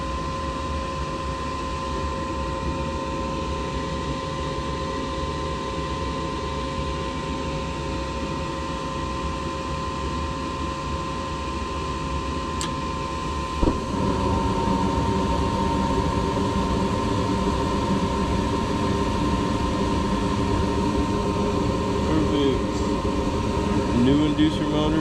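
A heater furnace's inducer motor, newly replaced after buzzing complaints, runs with a steady drone and a high tonal whine that rises in level partway through, and a voice speaks over it.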